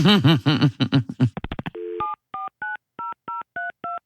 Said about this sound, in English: all fun and games till we start dialing the phone